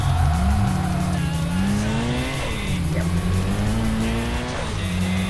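A front-wheel-drive Honda EG6 drifts in the video game Tokyo Xtreme Racer Drift 2, its engine droning and shifting pitch while the tyres squeal and skid continuously, loud and close, with no talking.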